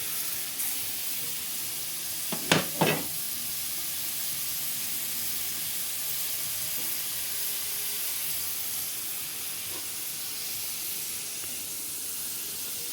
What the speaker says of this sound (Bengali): পেঁয়াজ রসুনটাও একটু ভাজা হবে তেলে।